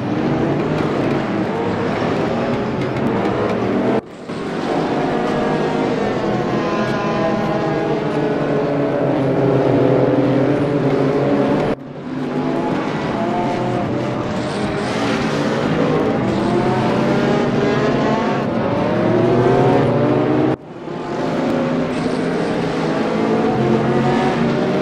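Race cars lap the Nordschleife in the RaceRoom video game, with a loud engine howl rising through the gears and dropping at sharp breaks during shifts, repeated over and over.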